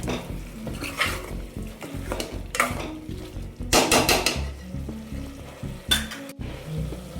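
Masala for chicken kurma sizzles in a pan while a spoon stirs it, scraping and clinking against the metal in uneven bursts. The frying stays continuous underneath, with no talking.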